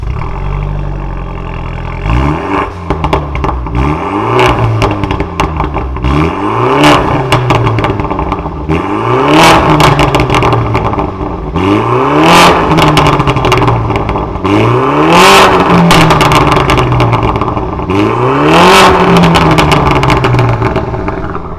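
A BMW G22 420 engine with a performance exhaust revs hard again and again in steady bursts, each rise followed by crackling pops from the exhaust, loud and close.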